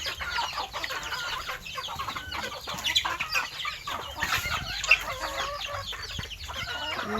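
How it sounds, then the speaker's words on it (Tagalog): Many chickens cluck and call continuously on a rural farm, a dense, busy chorus of close and overlapping bird voices with no talking. "Damo kaig manok, oh."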